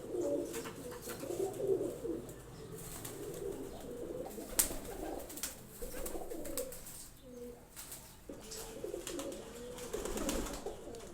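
A loft of thirty-two breeder pigeons, including females, cooing in low rolling bursts that come and go over several seconds, fairly close with quiet background noise and no talk.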